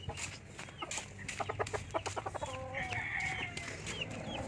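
Chickens in a coop give a run of quick clucks and a drawn-out crowing call, close and fairly quiet over a steady low hum, with no talking.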